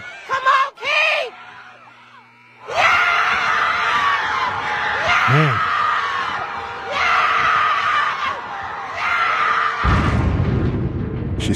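A woman screams amid a loud, sustained roar from the arena crowd at a basketball game, with someone talking over the noise close by.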